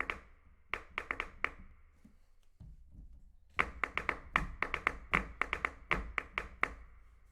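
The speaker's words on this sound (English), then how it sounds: "as you'd expect, claps." Sharp sampled hand claps from a percussion sample library ring out in irregular bunches, a few at first, then a brief lull, then a denser run of crisp, close claps.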